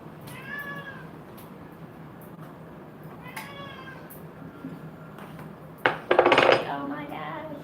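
A pet cat named Manly meows excitedly several times at feeding time, mid-distance in a kitchen, followed by a loud clatter of dishes and cutlery near the end.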